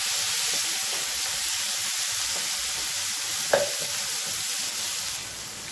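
Tomatoes cook in a pan with added salt and turmeric, giving a steady broad sizzle and hiss with a brief sharp stir or clink partway through, close and continuous.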